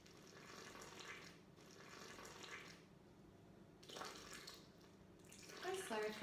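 Water pours in a steady, slow stream into whole wheat flour for pain au levain bread dough, running in a few separate spells with short pauses between them, close by and fairly soft.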